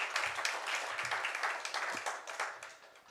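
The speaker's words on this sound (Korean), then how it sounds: "하나님께 다시 한번 영광의 박수 올려드리겠습니다." Applause from a church congregation during a mission Sunday service, a dense, steady wash of many hands clapping at moderate distance. It carries on without a break and no one speaks over it.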